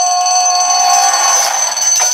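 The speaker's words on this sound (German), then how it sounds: "Alarm, Sprengung." A shrill, steady electronic alarm tone sounds continuously ahead of a demolition blast in the Deponia adventure game, loud and close, with no talking.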